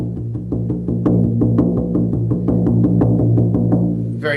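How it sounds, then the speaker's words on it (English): Monotonous shamanic journeying drum, a steady fast driving beat of even strokes repeating without pause, loud and close over a resonant low boom, played alone. "when we're journeying, the drum beat is going to sound like this"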